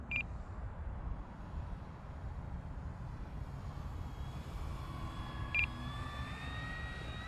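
A model airplane makes a slow, low pass with flaps half down, its faint engine drone rising into a thin whine as it passes, with a couple of brief beeps.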